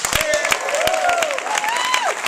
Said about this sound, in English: let's give Tanya a round of applause.